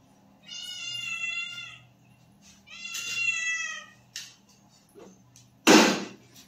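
A house cat meows two long, drawn-out times at close range in a quiet kitchen where fish curry is being cooked, followed by a short knock and a sharp clatter.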